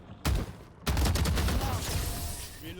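Shooting video game gunfire, a sharp loud shot followed by a dense rapid volley of shots close up, with game sounds continuing underneath.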